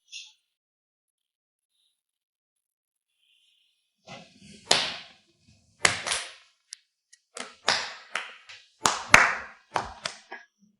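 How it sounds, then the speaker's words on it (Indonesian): Scattered hand clapping in an office meeting for a newly introduced deputy director, a few sharp separate claps arriving in small bursts after a quiet start. "Boleh tepuk tangan."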